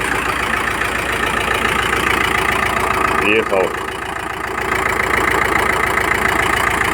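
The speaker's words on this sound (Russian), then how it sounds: "Что-то стучит в двигателе." Volkswagen T5 van engine idling steadily with a knocking noise under the valve cover, close and continuous; someone speaks briefly over it.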